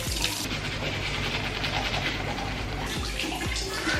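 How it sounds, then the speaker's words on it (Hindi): Running tap water pours steadily beside a sink while teeth are brushed in the morning, a close continuous wash of water with faint scrubbing texture and a few soft knocks near the end. "अभी मैं ब्रश कर रही हूँ"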